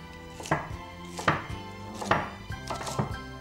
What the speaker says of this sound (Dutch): Zo, we hebben de asperges nu gesneden.